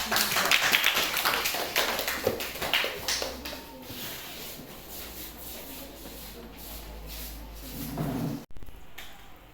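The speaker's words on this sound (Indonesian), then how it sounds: "Oke, beri tepuk tangan untuk kelompok." A classroom full of students claps for a group that has just presented during a teaching-practice lesson. The claps are scattered and fairly close, strongest at the start and thinning into quieter taps and rustling.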